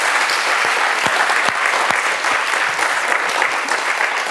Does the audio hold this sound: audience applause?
yes